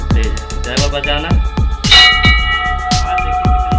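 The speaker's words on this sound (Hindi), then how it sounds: "ये घंटा देख लीजिए बहुत ही पुराना है, ये बड़ा है" A large, very old temple bell is struck repeatedly and loudly at close range in a steady rhythm, its long ringing tones overlapping and building into a bright, sustained shimmer.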